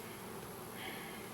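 Honey bees buzz steadily around a beehive, a dense continuous drone heard faintly and evenly throughout the short stretch, with no voices.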